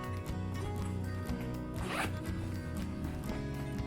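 A diaper bag zipper is pulled open close by, a continuous ratcheting rasp with a quicker burst midway.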